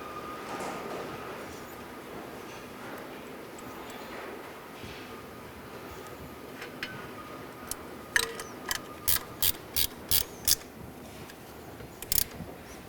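A ratchet tightens part of a Commander 3 machine, giving about seven faint, evenly spaced clicks in a row near the end, followed by two more, against a quiet hum.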